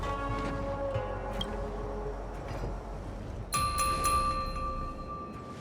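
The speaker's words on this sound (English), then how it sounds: "We could try ringing the harmonic chime" A harmonic chime rings in the video game Honkai Star Rail, a bright sustained tone joining soft background game ambience partway through, with no talk.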